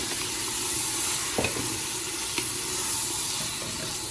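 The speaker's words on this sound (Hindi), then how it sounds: "मैं इसके अंदर ना लहसुन अदरक डाल दूँगी और इसको थोड़ा सा थोड़ी देर पकाऊंगी" Steady frying sizzle of garlic, ginger and mutton in a pan, with a couple of brief stirring clicks partway through; close and continuous, no voices.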